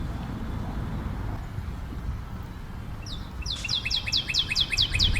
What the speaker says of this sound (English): You see a mother bird feeding its chick